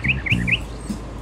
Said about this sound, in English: it's an incredibly rare straight lurping hover eagle